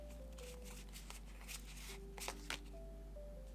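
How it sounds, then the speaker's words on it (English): A deck of tarot cards is shuffled and split for a reading, soft brief riffling and card slaps in a few quiet bursts over a low steady hum. "Let's split and pick a card."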